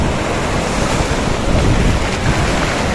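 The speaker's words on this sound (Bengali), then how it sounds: "ঢেউয়ের ফেনাগুলো এখানে পাথরের উপর পড়ছে" Ocean waves break and foam over rocks at a Goa beach, a steady close roar of surf with rising surges, wind buffeting the microphone throughout and no voices.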